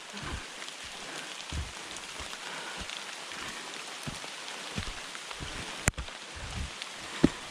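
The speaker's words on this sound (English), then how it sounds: "rain's picking up a bit" Steady rain falls through the bush beside a cave, an even wash of drops on leaves and ground with a few nearer, heavier splats standing out, close and continuous with no talk.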